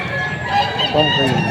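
Roosters and chickens for sale at the Padre Garcia market in Batangas crow and cluck close by, a steady crowing call running through the whole stretch over busy market background.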